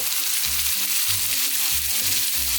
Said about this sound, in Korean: 김치는 너무 오래 볶으실 필요 없고요, 이 정도 그냥 김치가 익을 정도로만 볶아주시면 됩니다.